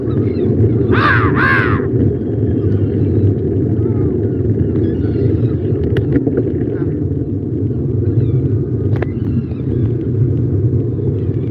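Two quick seagull cries ring out early, then fade behind a steady low engine rumble of a moving vehicle in Dublin traffic.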